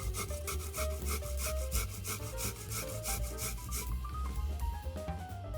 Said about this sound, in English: I'm microplaning 2 cloves of garlic.